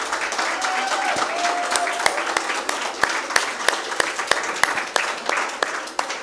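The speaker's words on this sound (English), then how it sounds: "please let's hear a big round of applause for Mahnaz Malik" Sustained round of applause from an audience at the Karachi Literature Festival, dense steady clapping with sharper individual claps standing out near and far, lasting throughout.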